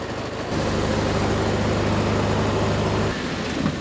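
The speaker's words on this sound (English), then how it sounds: "This is a 35 kilovolt amp Glycidia or Dendro gasifier system, which provides fuel for a gas engine generator." Gas engine generator running on fuel from a 35 kVA Glycidia or Dendro gasifier system on a working coconut plantation, a steady low idling drone with a constant hum that holds for about two and a half seconds before dropping away.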